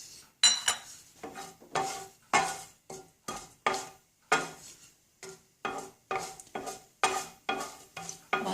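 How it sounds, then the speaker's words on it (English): Fennel seeds, clove and cinnamon going into two tablespoons of hot oil in a pan for a sprouts and cauliflower kurma: a series of sharp clinks and scrapes from a metal spoon stirring, with a light crackle between the strokes. "in a pan, I've taken 2 tablespoons of oil, and I'm going to add these fennel seeds,"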